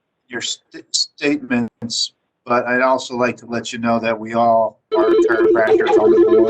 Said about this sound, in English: I believe it's your phone that we're hearing.